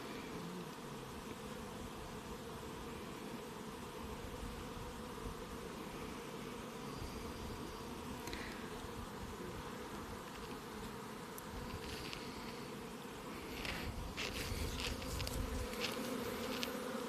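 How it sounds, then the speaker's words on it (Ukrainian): Honeybees stream out of hives at a migratory apiary on a fine day, a dense, steady buzzing hum that fills the air with no pauses and swells slightly toward the end. "Погода наладилась і бджілки наші полетіли на працю. Ось такий гарний льот."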